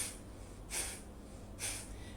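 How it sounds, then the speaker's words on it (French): Two forceful nasal exhalations during a Pilates session, each a short airy burst of breath about a second apart, close and fairly quiet with no talking. "vous pouvez faire quelques expirations par le nez"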